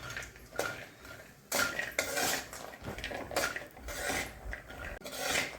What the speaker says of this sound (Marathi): तुपामध्ये आपण काजूही भाजून घेणार आहे.